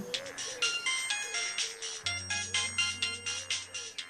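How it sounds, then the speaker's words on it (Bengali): A melodic electronic ringtone plays in a repeating pattern of quick chiming notes, steady and moderately loud, with no talking. "এমন সময় ফোনটা বেজে উঠল।"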